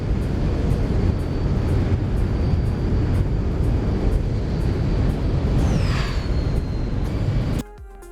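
A simulated Boeing 737 roars past in a low flyby in a flight simulator game, a loud, steady jet rumble that holds throughout and cuts off abruptly near the end.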